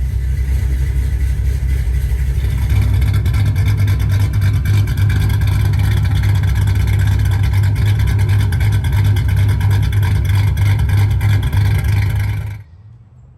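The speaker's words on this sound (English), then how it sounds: "Still kind of trying to idle out." A 2005-2010 Ford Mustang GT fitted with Ford hot rod cams idles loudly and close by, a deep, slightly lumpy, uneven burble holding steady before cutting off abruptly near the end.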